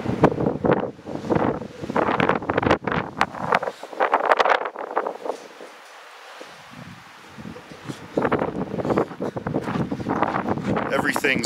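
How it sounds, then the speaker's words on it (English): Strong wind of around 70 miles an hour gusts across an open outdoor area near Las Vegas, roaring and buffeting the microphone in loud waves, easing briefly in the middle before surging again. "Up in Vegas, it's about 70-mile-an-hour winds, and I'm sure it's pretty close to the same out here."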